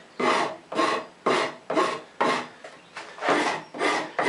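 A Shinto rasp shaping a wooden stool seat, cutting in nine even, rhythmic strokes, each a sharp, coarse scrape up close with brief pauses between, no voices.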